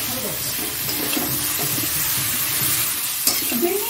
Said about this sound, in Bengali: এবার নুন হলুদ দিয়ে দিলাম। এটা ভালো করে একটু নাড়াচাড়া দিই।